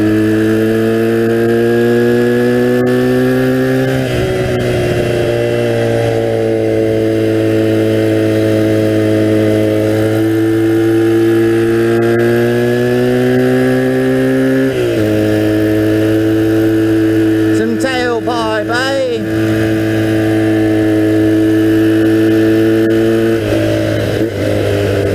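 A 1982 Honda 250cc flat track motorcycle engine runs loudly and close, holding a steady mid-pitched drone with several stepped revs rising and falling in pitch, and no talk over it.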